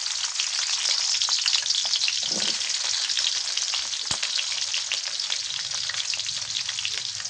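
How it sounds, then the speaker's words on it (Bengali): Chopped onion frying in oil for a beef tripe bhuna, a steady, close hiss of sizzling that runs unbroken throughout with faint stirring knocks. "দিয়ে দিতেছি পরিমাণ মতো তেল, দিয়ে দিতেছি পেঁয়াজ কুচি"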